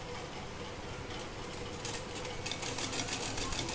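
Sewing machine running steadily while stitching a line on fabric, a continuous close mechanical whir that grows slightly louder and busier toward the end.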